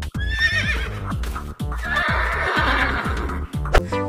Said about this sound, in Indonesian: ada satu ekor kuda nih teman-teman